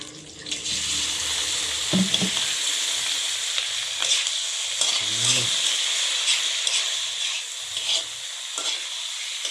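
Pork frying in a pan for a simple home-cooked sotanghon dish, a continuous close sizzling hiss with a few louder bursts and stirring clatters as the meat is worked around, no voices over it.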